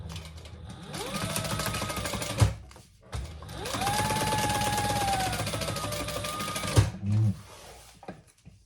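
A sewing machine stitches a chain stitch in two long steady runs with a whirring motor and rapid needle clatter, separated by brief pauses and small clicks, close up.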